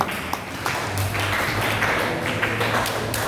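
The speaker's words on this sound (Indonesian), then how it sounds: "Terima tepuk tangan untuk kalian" Students at a school disaster-safety event get a round of clapping: a dense, steady patter of many hands at moderate volume with a few sharper taps standing out, lasting throughout.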